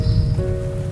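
Rain falling steadily, heard as a broad, continuous patter close by, with a faint steady tone above it and no voices.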